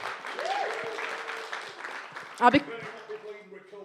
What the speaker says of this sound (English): Round of applause for me, Nan.